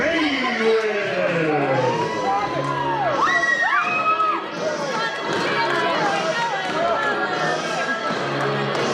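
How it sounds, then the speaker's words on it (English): A wrestling crowd cheers and shouts loudly for a fan-favorite wrestler, with whoops, whistles and excited yelling throughout, and a voice talking over the noise. "The crowd here goes wild for Lance Madwell."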